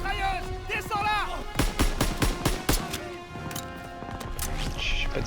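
Machine gun fire in a Call of Duty WWII battle, with a rapid burst of loud, sharp shots in the middle, set among other gunfire and game noise, and a voice heard briefly at the start.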